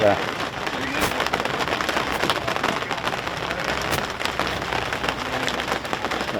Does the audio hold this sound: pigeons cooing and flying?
no